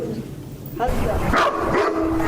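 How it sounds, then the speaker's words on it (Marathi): A small dog, carried on someone's shoulder, gives short yips and whimpery barks close by, mixed with people talking and laughing. "अरे कुत्रा आहे"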